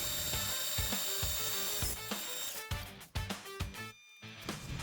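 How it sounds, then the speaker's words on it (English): A saw cuts the end off a metal part for a robot arm, a close run of rapid rhythmic rasping strokes with clicks that speed up and break off toward the end. "One more saw cut to go cut the end off that part."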